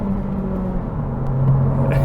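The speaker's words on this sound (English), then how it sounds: "But let's use this 200 horsepower here" A 2022 Honda Civic Si with 200 horsepower pulls away into traffic, its engine a steady low hum that gradually rises in pitch as it accelerates, heard from inside the car without talk.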